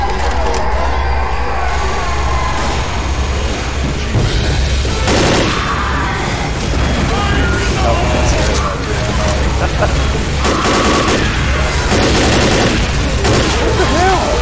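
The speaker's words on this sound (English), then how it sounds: "We have a little minigun here. Alright, we're going down as an event" Minigun fire in Left 4 Dead, loud rapid bursts of automatic gunfire that come in repeated sustained stretches over the game's background noise and mechanical clatter, with voices speaking at times.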